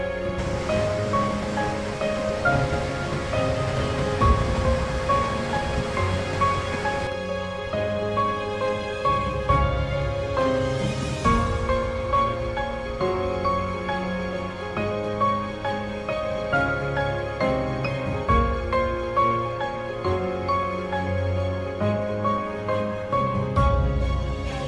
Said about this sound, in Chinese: 瀑布水直流而下，被一块大石头隔开，它的水源来自 Skalfandi 河